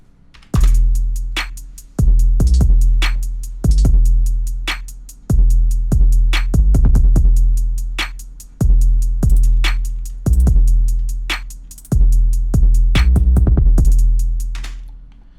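A heavily distorted 808 bass sample plays in a steady pattern, each boomy hit sliding and decaying under crisp hi-hat ticks and claps, loud and alone.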